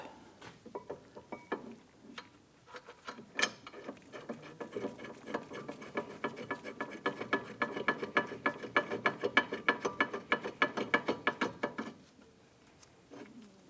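A ratchet tightens the lower brake caliper bolt on a Jeep Grand Cherokee with close, crisp clicking, first in scattered short bursts, then a long steady run of rhythmic clicks that stops abruptly.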